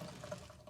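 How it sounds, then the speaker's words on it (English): Water running from a hand pump in a camper van built from a 2003 Honda Odyssey, a quiet, soft trickle and splash over a short stretch with no talk. "with each pump it comes out pretty nicely, so you can get like plenty of water"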